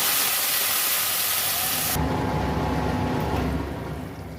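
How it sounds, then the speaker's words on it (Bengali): Pumpkin leaf curry poured into a hot pan of oil and black cumin, giving a loud, broad sizzle that sharply drops in brightness midway, then settles into a steady hiss that fades slightly at the end. "তারপর আমি শাকের তরকারিটা ঢেলে দেবো।"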